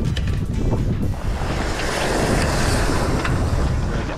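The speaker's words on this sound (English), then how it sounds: "There's a fair bit of wind right now" Strong wind buffets a sailboat on the water: a loud, steady roar with gusty microphone rumble and the wash of waves, continuous and close.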